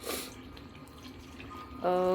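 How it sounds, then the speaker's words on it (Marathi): Hot water from the vessel used to cook the dal pours steadily into a pot of sambar, a continuous watery rush with a tonal, voice-like sound entering near the end. "याच्यामध्ये आता आपण गरम पाणी घालूयात."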